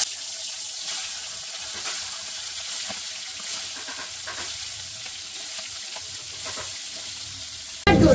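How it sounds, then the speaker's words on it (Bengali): Eggs fry in hot oil, a steady close sizzling crackle that continues throughout at moderate level, ending with a sudden louder burst. "এদিকে তেল গরম হয়ে গেছে আর ডিম একটা একটা করে ছেড়ে দিচ্ছি।"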